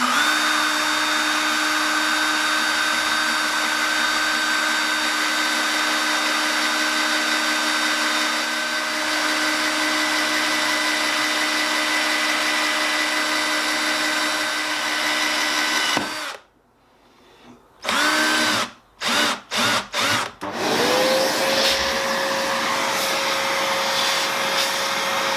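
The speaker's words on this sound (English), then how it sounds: "very gently, without pushing, let the drill go through." A cordless drill whines steadily as it bores slowly through a plastic bin wall from a pilot hole, melting the plastic, then stops and restarts in a few short bursts near the end.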